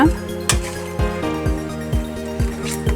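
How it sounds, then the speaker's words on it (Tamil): A spoon clinks against a pan while gently stirring crab masala, village-style South Indian crab curry, with a regular close tapping rhythm of about two knocks per second and nothing else over it. "அதனால சும்மா லைட்டாக அப்படி கிண்டிட்டு அடியில் இருக்கிற மசாலா எல்லாத்தையும் மேலாப்பில் இப்படி எடுத்து விடுங்க"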